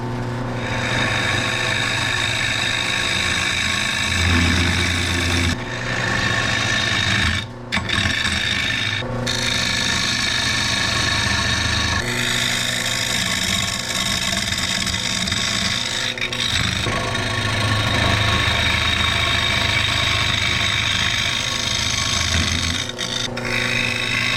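A wooden bowl with a lid spins on a lathe as a bowl gouge, scraper and square and round carbide-tipped tools cut it, giving a sustained rasping, scraping drone with brief pauses and shifts in tone.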